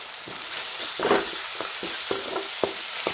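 Leftover rice and tomato stir-fried in a pan, a steady close sizzle with repeated scraping strokes of a spatula at an uneven rhythm, no voices.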